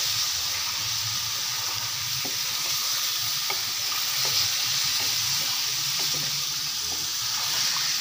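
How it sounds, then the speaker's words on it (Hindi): Aloo gajar (potato and carrot) stirred with a splash of water in an open cooking pot, a steady wet sizzle and scraping stir running throughout with faint clinks, no talking. "मैं थोड़ा सा पानी ऐसे डालूँगी और इनको अच्छे से मिक्स कर लूँगी।"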